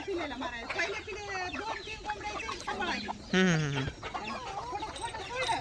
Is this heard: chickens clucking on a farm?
yes